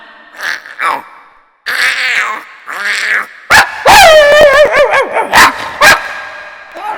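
A voice imitates a barking dog, starting with a few soft whines and growls, then breaking into a loud, close run of yelping barks and howls with sharp, rhythmic bursts.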